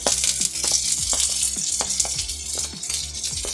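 Garlic, fennel seeds and dried chilies frying in oil for a sambar, a soft sizzle under a rhythmic, pulsing background of low tones, with a few light spoon clinks.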